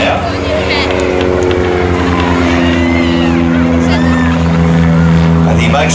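A light aircraft with a 65 horsepower engine, top speed 76 knots, flies low over fields at an air festival, its steady droning engine tone loud and sustained, with a rising pitch toward the end.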